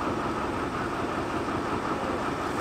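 Old narrow gauge railway train in Bulgaria, a 1965 German locomotive, giving a steady, loud, close rumbling engine and rolling roar with no breaks over the short stretch.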